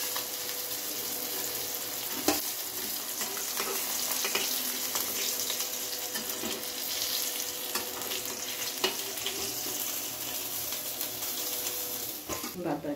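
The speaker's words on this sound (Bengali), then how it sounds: "মাছটাকে আমি খুব ভালোভাবে লাল লাল করে ভেজে নেব।" Pieces of katla fish sizzling in hot oil in a pan, a loud continuous crackling hiss with scattered sharp pops and occasional clinks of a utensil, with no voices over it.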